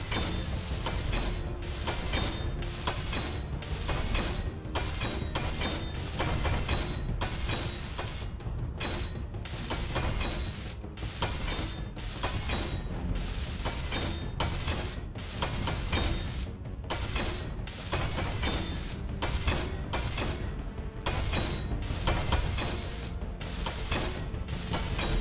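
Welding tool in the Space Engineers game, a steady dense crackling sizzle that runs continuously and loud, broken by brief rhythmic dropouts, with no talk over it.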